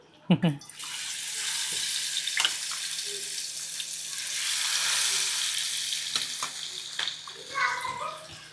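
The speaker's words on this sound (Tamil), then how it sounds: "சிக்கனையும் பொரிக்க போகிறோம்." Chicken 65 pieces coated in masala frying in hot oil, a steady broad sizzle running throughout with a few sharp pops and clatters near and loud.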